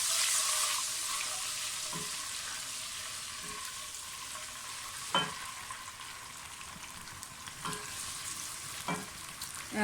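A steady, close sizzle of garlic-ginger paste frying in a hot pan, with occasional clicks and taps of stirring.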